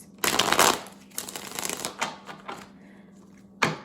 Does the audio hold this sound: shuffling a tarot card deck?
yes